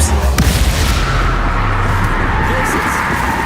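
Bombarda and Confringo spell blasts in Hogwarts Legacy battle, with heavy booming impacts and a sharp crack early, settling into dense rumbling explosive texture and scattered hits throughout.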